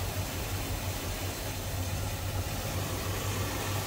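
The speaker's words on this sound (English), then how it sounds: "As you can hear, smooth running engine." A 1960 Oldsmobile Super 88 bubbletop with a 394 V8 idles smoothly and steadily, a low, even rumble with a faint hiss on top and no speech over it.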